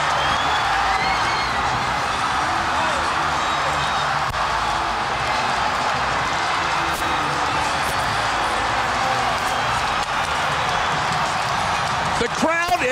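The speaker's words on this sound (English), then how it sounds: "The crowd has lost their mind." Broncos stadium crowd roaring after an overtime game-winning touchdown against the Steelers in Denver, a dense, sustained wall of cheering and applause throughout, with a brief sharp whistle-like sweep near the end.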